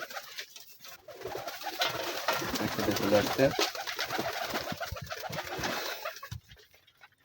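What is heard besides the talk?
Kaldom pigeons cooing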